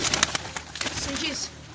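Pigeons coo softly in a bird-keeping setting, with brief wing flutters and a voice talking over the birds throughout.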